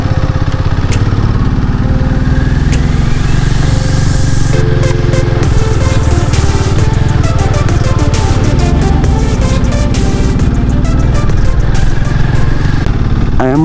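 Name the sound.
motorcycle riding uphill in first and second gear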